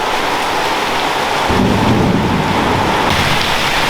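Heavy tropical downpour falling at about 130 millimetres an hour, a loud, dense, continuous roar of rain that swells into deeper rumbling midway through, with thunder.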